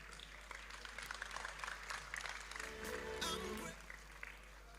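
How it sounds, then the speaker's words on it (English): Audience applause for the wife of a professor at his inaugural lecture, a faint, dense patter of many hands in a large hall, steady and distant with some crowd noise and a low hum underneath. "Clap for the wife now."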